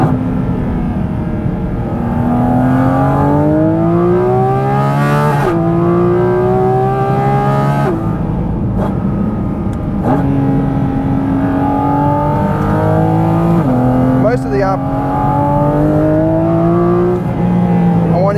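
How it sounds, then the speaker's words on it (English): A 2023 Porsche 718 Cayman GT4 RS engine revs hard and close, its pitch climbing through the gears with brief drops at each shift, a loud screaming wail throughout. "It's just a really screaming soundtrack that sends goosebumps"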